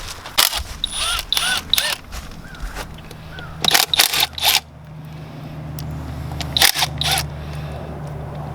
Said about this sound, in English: Now I'm gonna grab a 12 millimeter and pull this injection pump cover off here